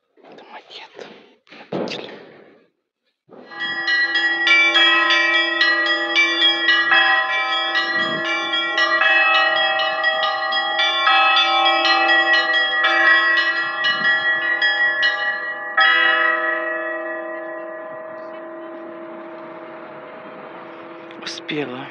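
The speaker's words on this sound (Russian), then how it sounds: "Успела я на перезвон." Church bells of a stone church with a belfry in Yaroslavl ring a full peal, many overlapping tones sustained for about twelve seconds and then fading, after a few seconds of quiet talk at the start.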